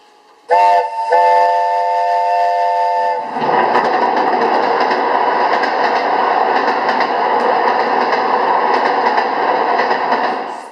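A loud stage-effect train whistle blows a sustained chord for a few seconds, then gives way to a steady rushing rumble of a departing train that continues evenly to the end, with no talk over it.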